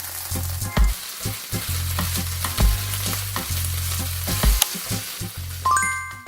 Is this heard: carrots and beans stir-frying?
yes